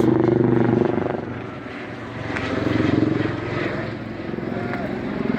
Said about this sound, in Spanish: En la planta de Sencata están sobrevolando aquí 2 helicópteros.